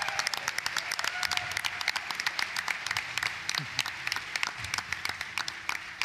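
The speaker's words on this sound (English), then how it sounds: "I think we just give a round of applause again." A crowd applauds steadily at the Games Done Quick 2018 speedrunning event, dense clapping filling the whole stretch at moderate loudness, with no voices.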